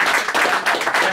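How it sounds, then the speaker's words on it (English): Audience applause at an evening gathering, a dense, steady patter of many hands clapping close by that fills the short moment without a break. "So I put your hands together and for a wee round of applause"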